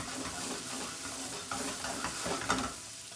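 Sweet corn sizzles steadily as it fries in butter in a frying pan, a continuous close crackle with occasional stirring scrapes and no voices.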